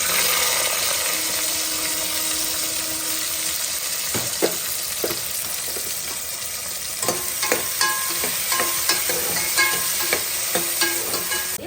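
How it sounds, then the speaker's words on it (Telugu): Red onions fry in hot oil for a curry made with bottle gourd, a steady loud sizzle running throughout with a few sharp clicks and taps of stirring toward the end, no voices. "వేడైన తర్వాత ఎర్రుల్లి వేస్తున్నాను."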